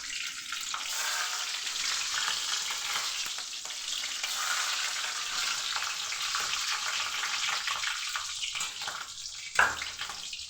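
Cumin seeds, bay leaf and green chillies sizzle hard in hot oil as a tempering, a dense, loud, continuous crackle with stirring, ending in one sharp clink near the close, no voices.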